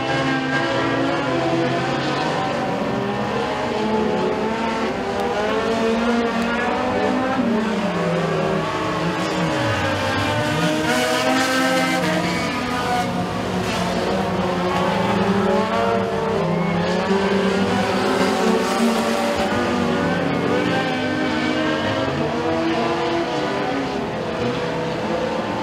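Race cars roaring around the dirt oval at Eriez Speedway during a heat race, engines revving and droning continuously with rising and falling pitch as the pack circles, loud and steady throughout.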